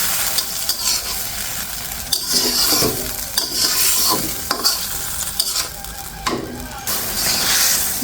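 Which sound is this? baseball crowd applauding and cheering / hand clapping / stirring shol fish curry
stirring shol fish curry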